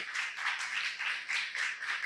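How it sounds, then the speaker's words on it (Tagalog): A church congregation applauding for the Lord, a dense, sustained wash of many hands clapping together in rhythmic surges, with no voices over it. "Pinaka-the best nga pong palakpak para sa ating Panginoon"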